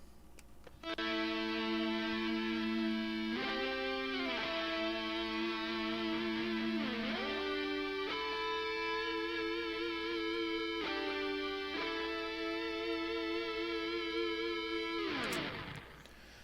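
Distorted electric guitar with a 5150 amp capture, crunchy lead tone EQ'd to sit apart from the rhythm, playing sustained notes and slides with several pitch shifts, loud and alone from start to near the end.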